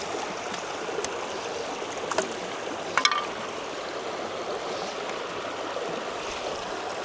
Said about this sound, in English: the water will rush through and push it to the next riffle